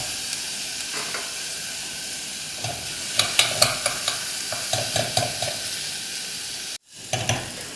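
Onions with ginger and garlic fry in a pan for a Kerala prawn and green mango curry: a close, continuous sizzle punctuated by sharp spoon scrapes and taps, then a brief drop to silence before the frying resumes.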